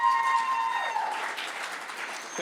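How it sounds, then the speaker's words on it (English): Applause from a board meeting audience: a steady wash of many hands clapping at moderate level, tapering slightly over a couple of seconds, with faint background voices. "So you guys should really clap it up for the people on the board for making a good decision"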